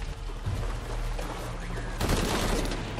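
Rapid gunfire from Shadow of the Tomb Raider, a dense burst of shots filling the whole moment with a sharper, louder volley near the end.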